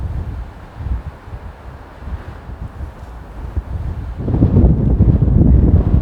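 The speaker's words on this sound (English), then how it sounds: "There's a lot of wind up here." Strong wind at a high Yellowstone viewpoint buffets the microphone in a continuous low roar that gusts and grows louder toward the end, with no talking.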